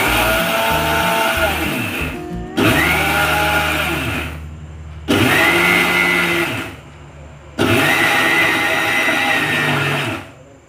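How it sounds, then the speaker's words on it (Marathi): A kitchen mixer grinder grinding niger seed chutney in four loud whirring bursts, each run starting abruptly and stopping into brief near-silence, close and alone. "परत मी मिक्सर लावून घेतलेला आहे,"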